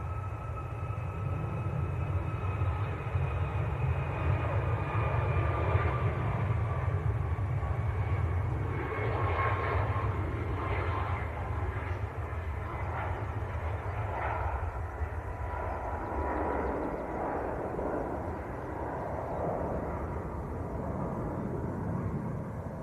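A TUI Boeing 737 MAX bound for Gran Canaria passes at Manchester Airport, heard fairly far off: a low rumble with thin whining tones sliding down in pitch as it goes by.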